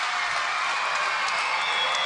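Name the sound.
home crowd cheering and applauding at beach volleyball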